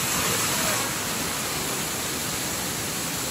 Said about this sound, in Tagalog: Napix talaga yung Sprite Falls.